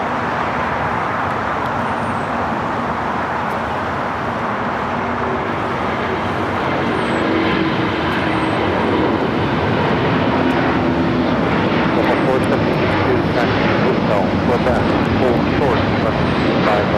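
A China Airlines Airbus A350-900 takes off at LAX, its engines building into a loud, sustained roar with broadband rumble and distant traffic beneath, over about seventeen seconds.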